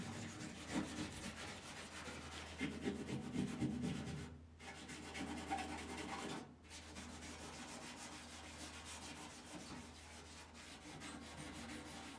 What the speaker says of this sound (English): Now scuff up the paint and metal so that you can put the auto body filler on